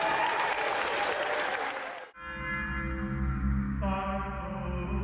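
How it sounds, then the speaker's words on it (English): A Gamesmaster studio audience applauds contestant Nick, a dense burst of clapping that stops abruptly after about two seconds and gives way to a loud, sustained electronic musical sting with a tonal shift near the end. "Round of applause again for Nick."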